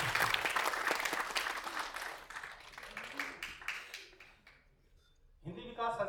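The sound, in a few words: loud applause for the chief guest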